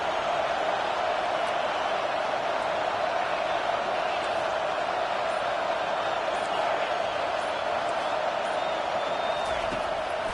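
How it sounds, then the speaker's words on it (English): A large stadium crowd at a football game roars in a constant, dense wall of noise, steady and loud throughout with no breaks. "listen to this crowd noise. This stadium is vibrating."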